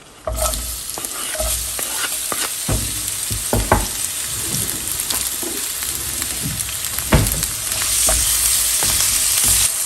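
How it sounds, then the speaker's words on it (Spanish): Onion half-moons fry in a splash of oil in a skillet, a steady sizzle broken by repeated stirring scrapes and knocks throughout, with no talking. "Y voy a agregar una cebolla en medias lunas."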